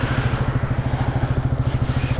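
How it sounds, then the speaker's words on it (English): A motorcycle engine turns over steadily on the starter without catching, a loud, close, rapid rhythmic churning pulse that runs throughout. "The bike wouldn't start there."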